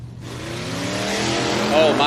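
A Corvette drag car roars at a drag strip race, its engine loud and rising as it accelerates away, with an announcer talking over it.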